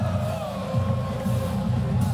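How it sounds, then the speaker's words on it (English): A Florida State crowd roars at a 2023 college football game against LSU, a broad steady stadium din that stays loud and unbroken from start to finish. "Full voice, this Florida State crowd."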